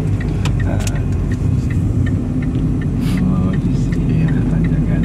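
A car engine drones loudly and steadily from inside the vehicle while climbing a steep hill, with a heavy low rumble and faint clicks and rattles over it.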